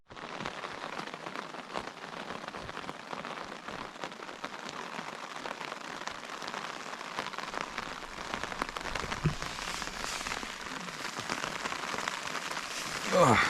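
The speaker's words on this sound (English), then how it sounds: "as you can probably hear, it's raining" Steady rain falls outside on a Welsh coast-to-coast bikepacking trip, a dense continuous patter on a nearby surface that stays even throughout, with faint knocks near the end.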